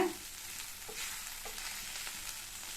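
Okra masala with masala powder fries in a pan, giving a faint, soft sizzle with a few light stirring scrapes spaced about half a second apart. The sound is quiet and steady, with no voices.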